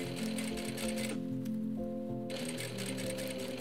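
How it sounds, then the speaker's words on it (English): A sewing machine top stitches the lining of a fabric sleeve, running steadily for several seconds with a brief lighter pause in the middle, close and alone. "I'm gonna turn the sleeve to the right side and top stitch the lining."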